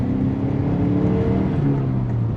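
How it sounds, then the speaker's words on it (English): The turbocharged engine of a Chrysler Conquest TSi spools up under acceleration on a drive, a loud steady engine drone with a rising whistle-like tone layered on top. "You can hear the turbo spool there."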